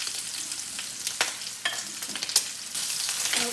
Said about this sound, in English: been stirring the sausages for about a little over a minute